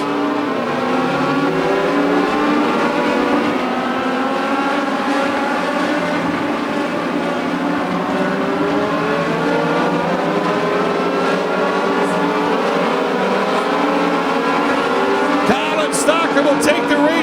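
Race cars circle a track in a late-race battle with a field of cars, a steady blended engine roar running throughout, loud and continuous, with a commentator talking over it.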